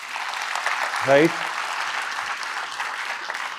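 Audience clapping at a NEET PG motivational session in Delhi, steady and fairly loud across the whole stretch, with a short spoken word cutting in briefly near the middle.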